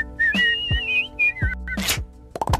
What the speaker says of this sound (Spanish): El abuelo le ruega a Homero convenciéndolo con su forma rara de silbar.